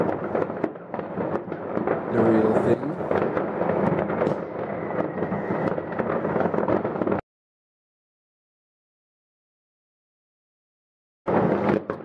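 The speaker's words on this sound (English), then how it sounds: "2018 fireworks in Mijdrecht, the Netherlands." New Year fireworks bursting over Mijdrecht in the Netherlands, a dense, loud run of crackling blasts and booms for about seven seconds, then silence, then more bangs at the end.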